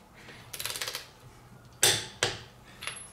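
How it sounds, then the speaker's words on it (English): Half-inch torque wrench tightening lug nuts on a 2013 Kia Optima's 17-inch wheels to 85 foot-pounds in a star pattern: a quick run of ratcheting clicks, then a few sharp, separate metallic clicks, close and fairly loud. "we'll break out our half inch torque wrench and we'll torque all the wheels down"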